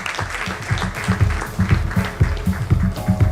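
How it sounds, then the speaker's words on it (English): Audience clapping to welcome a managing director onto the stage at a corporate communications conference, uneven and fairly loud, with music or low sounds underneath and a few louder bursts. "Round of applause."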